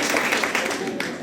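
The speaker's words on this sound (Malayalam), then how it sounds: "കൈയടിച്ചു." A brief burst of audience clapping at a ward community anniversary celebration held in a school hall, with many hands clapping together and voices mixed in.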